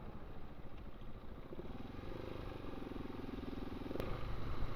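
Mopeds ride past on a forest road in the Relletti area, a steady buzzing engine drone that slowly grows louder as they approach, with a brief sharp click near the end.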